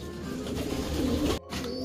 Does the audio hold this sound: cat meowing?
no